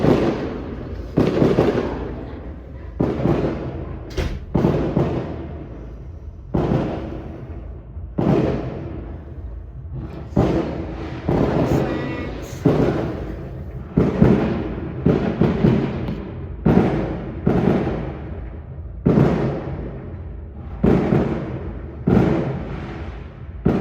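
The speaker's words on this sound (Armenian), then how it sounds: "հրավառություն։" Fireworks bursting repeatedly at an irregular pace, a long run of sharp pops and booming cracks, some close and loud, others fainter, with no voices.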